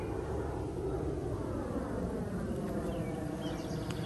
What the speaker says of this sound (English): there's a lot of planes going overhead today